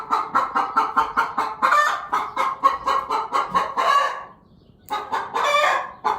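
Rapid, loud clucking from a hen and her chicks close by, a busy rhythmic series of calls with a brief pause before the clucking resumes.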